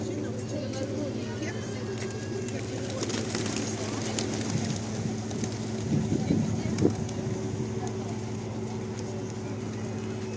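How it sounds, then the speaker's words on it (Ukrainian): Pigeons cooing at the drinking-water pump room in Truskavets amid a steady low engine-like hum, with people talking over the scene. "Скільки голубів, правда?"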